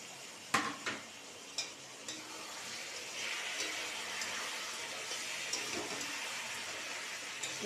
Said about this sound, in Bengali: নাড়াচাড়া করতে করতে চিকেনগুলো একটু নরম হয়ে যাবে